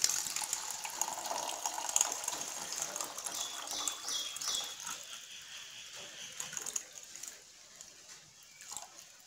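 Cold water pours into a brass magic tumbler, a steady close splashing fill that gradually softens as the vessel fills.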